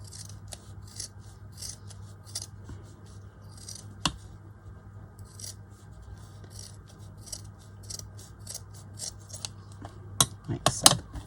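Scissors snip through fabric for a small pouch in short repeated crunching cuts, close and fairly quiet over a low background hum, quickening toward the end.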